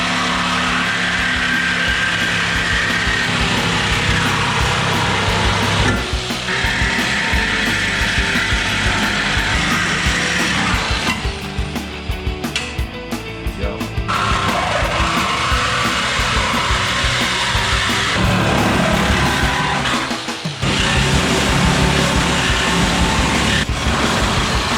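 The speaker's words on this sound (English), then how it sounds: "I'm just gonna probably use a Sawzall for most of this" A Sawzall reciprocating saw cuts through the sheet-metal body of a LUV pickup truck. The buzz is loud, continuous and close, with brief dips in the middle and a short pause near the end before it resumes.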